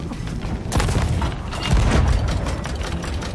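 Cannon fire from a ship in Sea of Thieves, a pair of heavy booming blasts about a second apart over steady sea and game ambience, loud and close with no talk.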